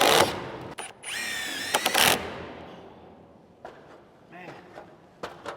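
A power driver whirs in short bursts as 3 1/8 inch GRK structural screws go into house framing inside a barn, with clattering handling noises in between and people talking nearby.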